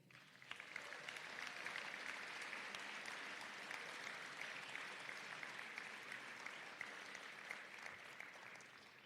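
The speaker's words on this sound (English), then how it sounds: "Let's now give a round of applause for all of our newest members of the Varsity D Athletic Hall of Fame." A crowd claps steadily at a college athletics hall of fame induction ceremony, sustained and even applause that sounds somewhat distant and soft, lasting about nine seconds.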